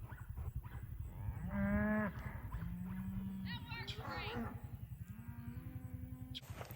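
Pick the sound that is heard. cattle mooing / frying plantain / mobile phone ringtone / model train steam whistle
cattle mooing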